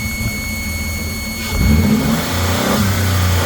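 A 2008 Ford Escape engine with an alternator fault is revved up from idle, its mid-pitched engine note rising and holding steady, loud and near, with no talking.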